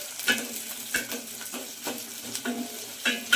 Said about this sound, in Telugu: కొంచెం ఆనియన్ కలర్ వచ్చేంత వరకు వేయించుకుందాం